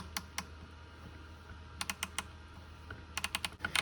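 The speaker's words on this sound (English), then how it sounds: "And now we'll go to the 90 tooth. Four clicks versus 5." A 1/4 inch 90-tooth ratchet clicks in quick dry bursts of four or five sharp ticks, three separate clusters spaced apart, close and clear against a quiet background.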